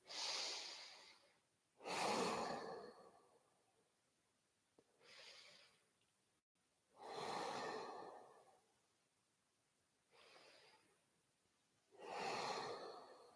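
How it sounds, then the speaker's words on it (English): Three slow, deep breaths during an evening yoga class with hands raised overhead, each a long airy inhale-exhale swell separated by quiet pauses, close and soft with no talking. "Taking 3 deep, life-affirming breaths."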